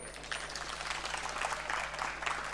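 Audience clapping at a satsang, a steady soft patter of many hands held throughout, fairly faint and even.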